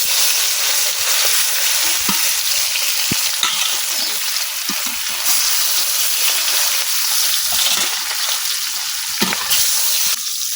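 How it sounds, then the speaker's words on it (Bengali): Carp pieces frying in well-heated oil give a loud, steady sizzle with bursts of crackling and spattering throughout, close by and without talk. "আমার তেলটা কিন্তু খুব ভালোভাবে গরম হয়ে গেছে এখন আমি দিয়ে দিতেছি মাছগুলো"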